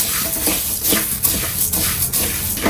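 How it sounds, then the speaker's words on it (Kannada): Dry curry leaves roast in a pan for rasam powder, producing a close, continuous crackly rustle with repeated scraping strokes of stirring and a faint sizzle. "ಒಣ ಕರ್ಬೇವಿನ ಸೊಪ್ಪು ಇಟ್ಕೊಂಡಿದ್ನಲ್ಲ, ಅದನ್ನು ಹಾಕ್ಕೊತ ಇದ್ದೀನಿ. ಇದು ಕೆಂಪಾಗಂಗೆ ಹುರ್ಕೋಬೇಕು."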